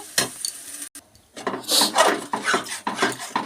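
Spices being mixed into boiled dal in a pot, heard as irregular scraping and clinking of a spoon against the pot, with a brief pause before a busier run of stirring strokes.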